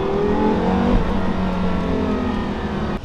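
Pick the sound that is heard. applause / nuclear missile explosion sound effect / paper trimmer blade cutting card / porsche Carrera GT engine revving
porsche Carrera GT engine revving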